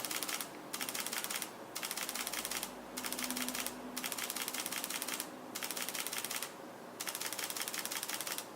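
A Panasonic GX85 mirrorless camera shutter firing in continuous burst mode gives rapid, even mechanical clicking in repeated runs of about a second each, separated by brief pauses.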